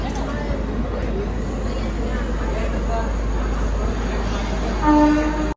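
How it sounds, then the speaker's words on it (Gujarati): Low, steady rumble of a train departing Udhna railway station, with people talking nearby and a short horn-like tone near the end. "જો ગાડી ઉપડી ગઈ."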